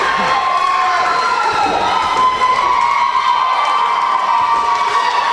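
Wrestling crowd on its feet at a live event, a loud continuous roar of cheering and shouting with high-pitched yells sustained throughout.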